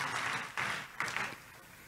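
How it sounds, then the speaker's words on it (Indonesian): Church congregation applauding during a sermon, a brief faint patter of clapping in a few uneven surges, heard from a distance with no talking over it. "Tepuk tangan dulu yang meriah buat Tuhan kita Yesus."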